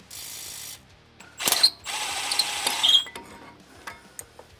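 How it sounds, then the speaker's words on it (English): A power tool removes the 21 mm caliper bracket bolts on a Jeep Gladiator during a brake upgrade, heard as a short burst followed by a longer, louder whirring, ratcheting run close by, then lighter mechanical clicks. "there is two 21 millimeter bolts that hold the caliper bracket on. We're gonna head and get those removed."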